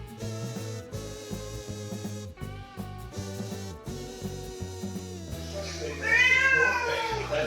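A cat meows and yowls while scuffling with a kitchen wall, heard close and fairly quiet over music, with a louder caterwaul near the end.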